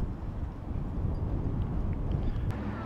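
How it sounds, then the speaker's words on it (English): Steady wind blowing across an outdoor roadside stop along a scenic byway, a continuous low rumbling roar buffeting the microphone with no break, loud and close throughout. "It's windy, isn't it?"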